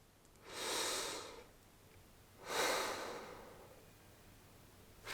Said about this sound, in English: put your hands on your chest and breathe in through your belly